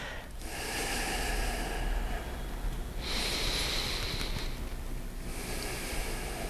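During a yoga side stretch, slow breaths come close and clear: long airy exhales and inhales in a steady rhythm, about three drawn-out breaths with no talking.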